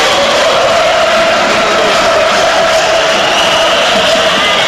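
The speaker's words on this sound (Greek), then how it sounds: "Και χειροκροτήματα από τους Ιταλούς." Italian fans at a volleyball Champions League final in Rome, Sisley Treviso against Iraklis Thessaloniki, making a loud, continuous roar of crowd noise and cheering that fills the arena throughout.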